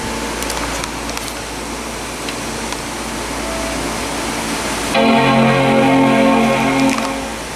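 A 2002 Power Macintosh G4 QuickSilver on a workbench powers up and sounds its startup chime, a sustained harmonic tone rising out of steady fan and wind noise and ringing for about two seconds before stopping.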